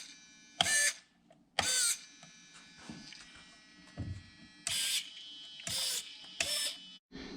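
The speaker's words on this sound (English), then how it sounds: "Listen at the pitch of the servo." Shift servo on a Traxxas TRX4 RC crawler with a Hobbywing 1080 ESC, running on 6 volts: six or so short, high whining bursts, each about a quarter second, separated by near silence and a few faint clicks, close and clear, with no voices.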